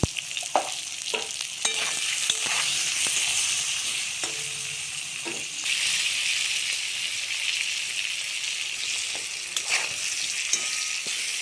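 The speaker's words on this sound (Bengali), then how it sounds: "আলুটা ভেজে নিলাম" Potatoes frying in hot oil for a Bengali fish curry with eggplant, a dense continuous sizzle with intermittent scraping and stirring clicks from a utensil, close and fairly loud.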